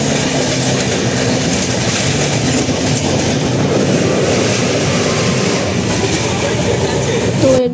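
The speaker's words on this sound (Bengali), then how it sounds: "তো এরপরে ট্রেন নিজের দিকে চলতে থাকে" The Padatik Express rolls through the night out of Sealdah, a loud, continuous rumble and rattle of wheels and carriage heard from inside the coach, with faint voices mixed into the steady noise.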